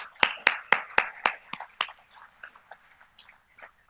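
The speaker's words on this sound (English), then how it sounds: "A round of applause, please." A crowd at an anniversary award ceremony claps: a handful of sharp, loud claps, then a scattered, thinning patter of applause that fades away.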